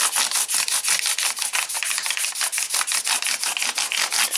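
Nickel silver guitar frets polished with 320 grit abrasive after a level and recrown, a fast, steady back-and-forth rubbing with about five strokes a second, close and bright, continuing evenly with no speech.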